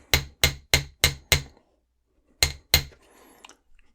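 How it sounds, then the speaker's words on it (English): Five sharp metallic hammer strikes in an even rhythm flatten and harden a wire clasp loop, then after a pause two more blows on the connecting loop, close and ringing, followed by faint small clinks. "I'm going to just put a couple of hits on the connecting loop as well."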